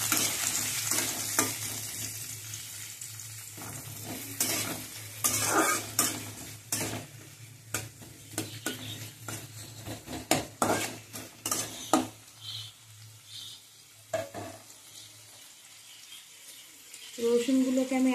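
Coarsely chopped onions frying in oil in a pan, a low sizzle broken by repeated scraping and clinking as a utensil stirs them, the stirring strokes coming in irregular bursts up close.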